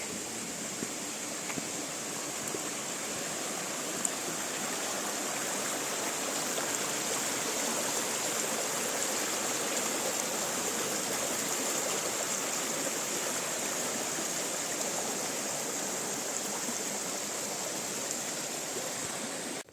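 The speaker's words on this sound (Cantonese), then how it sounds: "偶然會見到呢啲小溪， 咁聽到啲流水聲" A small mountain stream flows and burbles steadily along a hill trail, a continuous gentle rush of water with no voices, heard close by for the whole stretch.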